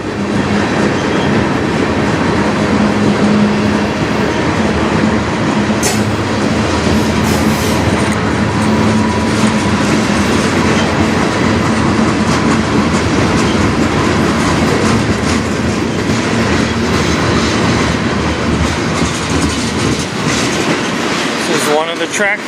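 A CN train rumbles past on the Strathroy Subdivision in Sarnia, Ontario, loud and continuous, with a steady clattering of wheels and brief metallic squeals throughout.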